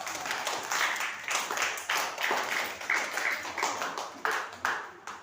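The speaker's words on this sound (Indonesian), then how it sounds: "kasih tepuk tangan untuk kelompok" Children in a fifth-grade primary school classroom clap in rhythmic bursts for a group, a steady, moderately loud patter that pulses in repeated waves.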